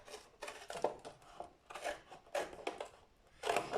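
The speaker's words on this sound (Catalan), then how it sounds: "i aquesta l'acabaré amb tisores" Scissors snip through paper or card during a craft workshop, giving several short crisp cuts in an irregular rhythm, close and fairly quiet with no talking.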